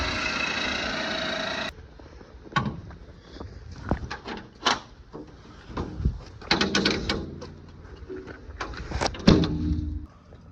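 Door being popped open on a BMW E34 Touring wagon at a shop on a snowy day, heard as a few sharp clunks and thumps after a steady engine-like hum cuts off, with clattering handling noises following.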